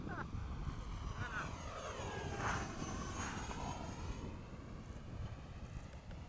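An FMS 70mm F/A-18 electric RC model jet on its landing approach after sunset at Crows Landing, a steady distant whine of the ducted fan that rises and falls faintly as it passes.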